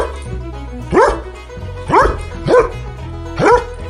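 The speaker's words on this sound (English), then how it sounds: "D-O-G, dog." A dog barks four times in an evenly spaced series, each bark loud and close, with nothing else in the background.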